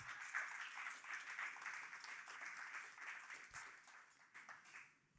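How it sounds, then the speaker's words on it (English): An audience applauds for three entrepreneurs at a session on oceans and the Amazon, a faint, even wash of clapping that holds for several seconds and thins toward the end. "Let's give one more big round of applause for all three of these incredible leaders."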